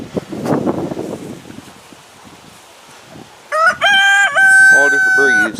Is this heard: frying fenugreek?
no